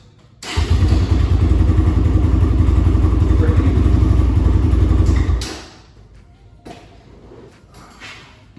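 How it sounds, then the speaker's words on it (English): A 2022 Kawasaki KLX140RF 144cc four-stroke dirt bike cranks loudly on its electric starter for about five seconds close up, then cuts off into quiet with a few faint clunks. "Just takes a second to start. I don't have to use my energy kickstarting it."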